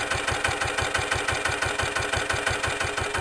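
A 1984 Lister LT1 diesel stationary engine idling close by, a steady, fast, even thumping pulse with a mechanical clatter on top and no talk.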